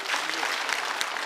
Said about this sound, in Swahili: Makofi ya hiyo.